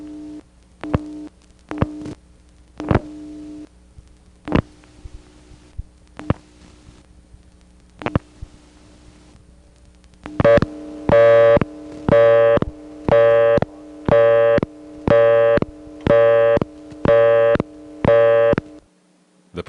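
Telephone busy signal from a 1976 payphone in Colonial Beach, Virginia: a few scattered clicks, then a loud, steady on-off tone repeating at an even, fast cadence, close and clear with no talk.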